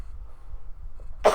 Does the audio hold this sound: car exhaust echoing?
no